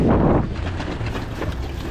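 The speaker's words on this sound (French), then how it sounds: "le vent me pousse" Wind roars across the microphone of a bicycle rider touring Barbados by road, a strong gust at first and then a steadier rushing buffet, with no talk.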